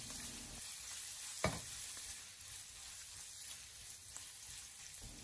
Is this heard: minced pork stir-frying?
yes